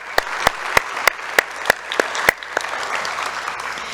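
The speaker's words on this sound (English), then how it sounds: "Let's give them a little round of applause." Applause for graduates at a pharmacy technology and medical assistant graduation ceremony, a crowd clapping steadily for about four seconds with a few sharp, louder claps standing out near the front.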